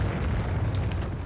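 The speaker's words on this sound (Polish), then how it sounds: "No, to wybuchowe jakieś takie." A deep, sustained rumbling boom from an explosive arrow blast in Dark Souls III, filling the whole moment with low roar and a couple of faint crackles near the end.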